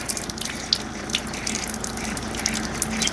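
Water runs steadily from a household tap, a constant loud splashing hiss with no pauses and no voices.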